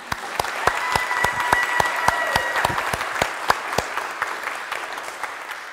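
A church congregation applauds its wardens in a long, steady round of clapping, with individual sharp claps standing out clearly near the listener and no talking.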